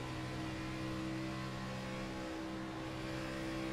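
Steady loud engine drone of a stock car in an Xfinity Series racing video game at Atlanta, holding a constant pitch through a lift off the throttle, with no voices.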